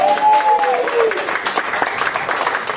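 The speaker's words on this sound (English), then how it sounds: "Ladies and gentlemen, a massive round of applause." Wedding guests at a beach hotel reception break into brief applause and cheering, with a high whistle early on and voices mixed into the clapping.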